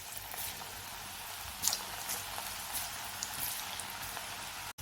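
Bitter gourd slices fry in hot oil for chips, giving a steady, close, bright sizzle with scattered sharp crackles and pops and no voices.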